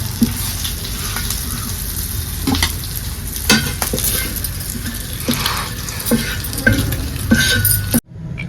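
Pieces of fish sizzle steadily in a frying pan with a continuous loud crackle, broken by occasional stirring scrapes and clinks of utensils against the pan before it cuts off near the end.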